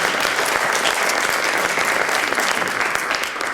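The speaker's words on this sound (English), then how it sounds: "Please give a big round of applause to Guillaume" An audience applauds a speaker at an IOC roundtable on supporting young athletes, with loud, even, continuous clapping throughout.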